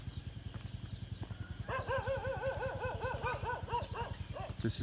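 Dogs at a fish farm in Thailand bark and yip in rapid bursts partway through, over a steady rhythmic thumping mechanical pulse.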